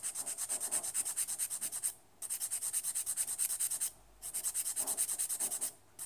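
A nail file rasps in fast, even back-and-forth strokes across a 3D gel nail flower, three rhythmic bursts of close, bright scratching separated by short pauses.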